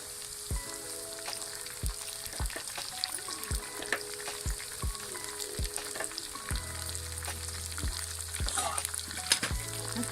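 Chicken fries in a pan with garlic paste and tomatoes, a constant soft sizzle under repeated clacks of a spoon stirring, with a low steady hum joining partway through; no speech.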